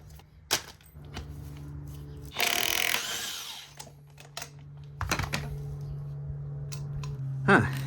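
A power tool loosens the crank pulley on a 1996 Honda Civic EK hatchback, with short sharp bursts and a sustained buzzing rattle in the middle, close up amid clanks of work.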